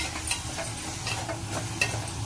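Onions with salt being stirred in a covered frying pan for a chana curry, a steady sizzle with repeated scraping strokes of the spoon at an even rhythm, close and fairly loud.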